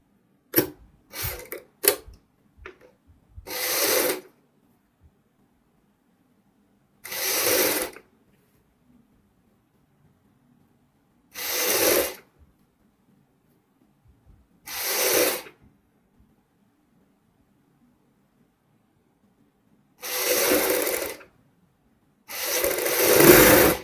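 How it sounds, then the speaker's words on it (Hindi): Short bursts of a sewing machine stitching a band onto the back neckline of a suit, each run lasting a second or two and separated by quiet pauses, with a few quick taps at the start. "इस प्रकार हम यहाँ तक सिलाई लगाएंगे जो हमारा बैक साइड का गला है"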